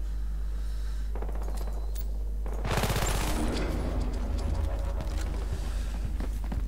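Gunfire in the shooter game Battlefield Hardline, a rapid burst of loud cracking shots followed by scattered sharper reports over a low constant hum, no talk.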